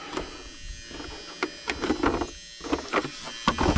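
A small cooling fan whirs steadily inside an electronic device on the workbench, a close mechanical hum with intermittent clicks and rattles over it.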